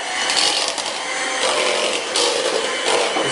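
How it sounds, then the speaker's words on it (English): Cream cheese and butter whisked together in a bowl, a steady, fairly loud scraping and rattling with dense broadband texture running without pause, no voices. "I'm going to nicely whisk this. Make sure that the cream, cheese and the butter"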